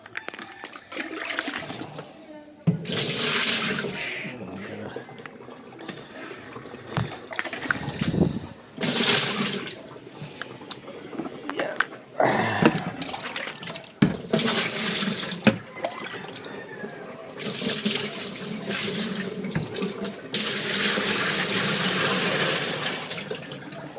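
Water gushes and splashes into a borrowed Astron washing machine tub, loud and close, in uneven surges with brief pauses between bursts.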